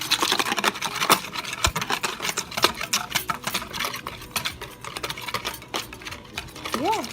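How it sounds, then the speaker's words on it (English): A marinade being whisked together in a bowl for steak tagliata: rapid, steady scraping and clinking of a whisk against the bowl, close and continuous throughout. "Kind of whisk it together, make sure it's all blended and stuff"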